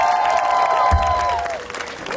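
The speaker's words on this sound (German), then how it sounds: "Warte einmal ganz großen Applaus für Roots, bitte." Crowd at an outdoor K-pop dance performance at Kieler Woche 2024 applauding the performers, a brief burst of clapping under lingering music tones, fading toward the end.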